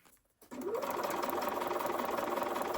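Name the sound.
sewing machine stitching a fabric seam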